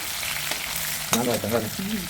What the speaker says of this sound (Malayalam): കുറച്ച് സവാള സവാള ഇട്ട് കൊടുക്കുകയാണ് അതിങ്ങനെ വഴറ്റിക്കൊണ്ടിരിക്കണം